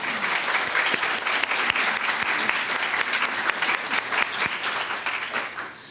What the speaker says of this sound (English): if we could please give them a round of applause